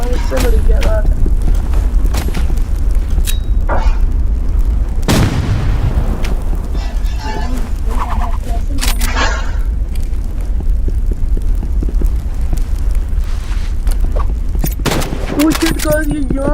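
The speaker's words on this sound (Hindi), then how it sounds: "मैं आपको फ्लेयर गन से मार लेता हूँ" Flare gun shots and other weapon fire from the Roblox Rivals video game crack in sharp bursts, with a heavy boom midway, while a voice talks over the loud, busy gameplay.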